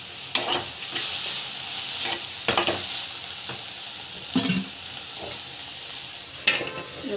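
Ingredients sauté and sizzle in a pan, a steady frying hiss broken by several sharp stirring scrapes spaced a second or two apart, close and with no talk.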